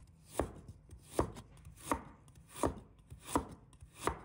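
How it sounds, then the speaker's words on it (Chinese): A knife slicing a piece of fresh ginger on a cutting board, six distinct chops spaced evenly at a relaxed pace, close and clear with no talking. "准备1块生姜，把它切成片"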